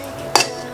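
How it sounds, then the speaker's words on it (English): A single short metallic clink as a lid is set onto a cocktail shaker while mixing soju cocktails, a quick close tap in a quiet room. "Lid on."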